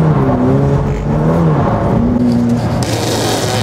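A Ferrari F8 Tributo drifts at a steep angle, its engine droning loud and close with a steady high whine that bends in pitch, while tyre scrub and hiss build toward the end.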